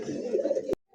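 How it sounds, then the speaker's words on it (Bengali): A satin pigeon, a blackless satin of light colouring, coos in a close, steady low throaty run for most of a second before a sharp click and brief quiet. "তো দেখতেই পাচ্ছেন পাগলা একটা শাটিন কবুতর"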